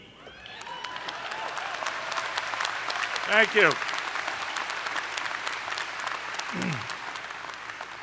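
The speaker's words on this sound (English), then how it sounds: "You should clap as often as you like." Applause from a crowd at an undergraduate commencement ceremony, steady and moderately loud throughout, with a speaker's voice briefly heard over it.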